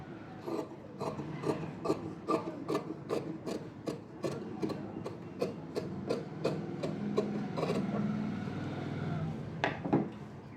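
Scissors cutting fabric along a marked line, giving a regular series of about twenty crisp, close snips in an even rhythm, heard alone without voices.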